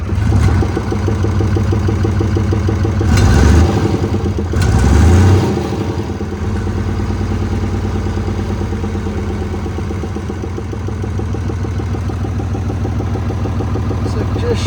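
A 1975 International Harvester 666 tractor engine cranks, starts and settles into a loud, steady diesel idle with a rhythmic chug and a couple of brief revs early on.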